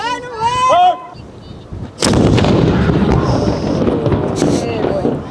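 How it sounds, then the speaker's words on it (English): A voice talks briefly, then a single loud cannon blast booms close by and rumbles on with echoing noise for several seconds. "About to watch this cannon go crazy."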